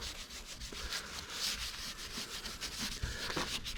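Steady abrasive rubbing as the top edge of a car headlight is scrubbed clean of grime, a continuous close scratchy texture with slight rhythmic strokes and no talking.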